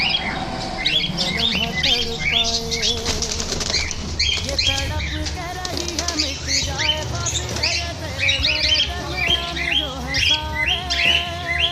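A crowd of seven-month-old pet birds for sale squawks and chirps continuously, with wings flapping among the shrill, overlapping calls close at hand.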